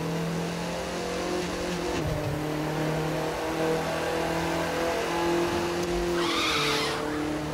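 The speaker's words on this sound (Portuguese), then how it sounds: "Queimar pneu, não quero nem saber." Audi TT RS in the racing game The Crew 2, tires skidding and squealing under a steady engine drone, with a brief thud and a burst of revving near the end.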